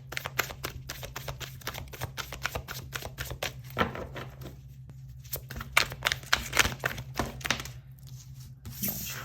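Tarot cards being shuffled and drawn from a deck during a reading, a run of quick papery flicks and slaps close by, with no talking.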